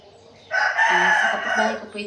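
A rooster crows loudly and close, one long drawn-out call, with faint clucking from chickens in the background.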